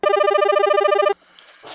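A telephone rings loudly in one long steady electronic trill that stops abruptly, followed by faint rustling and a brief soft noise.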